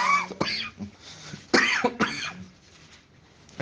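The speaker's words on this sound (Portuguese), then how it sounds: "Eu tô com essa tossinha chata." A person gives several short, dry coughs in quick bursts, with brief pauses between them, close to the microphone.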